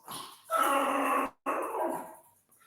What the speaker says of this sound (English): mind the dog again